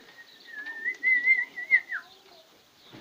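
A pigeon at a breeder's loft gives a drawn-out whistling, cooing call. It is close and clear over a quiet background, with a few soft fluttering sounds.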